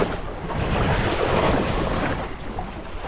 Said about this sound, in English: It is windy out here, y'all.